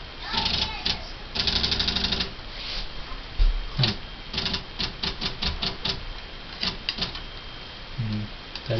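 A Smith Corona SL575 electronic typewriter clatters through rapid bursts of mechanical strikes and whirring carriage moves during a character correction, loud and close, with a person speaking at points.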